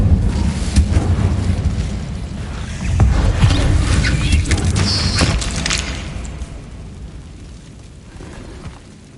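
A fire spell cast in Hogwarts Legacy bursts out as a loud whooshing blast with crackling pops, peaking early and then fading into a lingering rumble that trails away.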